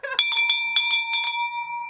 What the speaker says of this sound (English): Drop that bell. Let's ring it, baby.